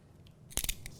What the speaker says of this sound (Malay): Okey, kita potong. Hati-hati semasa menggunakan pisau.